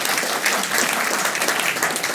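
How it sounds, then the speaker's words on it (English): A short burst of warm, steady audience clapping at a launch event for the Bob Oakes Legacy Circle, fairly close and continuous, with no talk over it. "a little applause for that"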